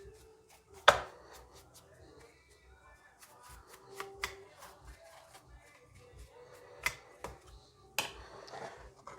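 A plastic chainsaw cover is fitted back into place during routine maintenance, giving a few sharp, close clicks and snaps spaced apart, with quieter handling rustle in between.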